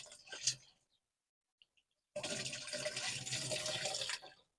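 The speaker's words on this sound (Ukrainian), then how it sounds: "Беру 10 літрів водички, просто гарно промиваю стаканчик прямо в оприскувач." Water splashes briefly as a cup is rinsed into a garden sprayer outdoors, then after a near-silent pause a steady pouring rush runs for about two seconds before stopping.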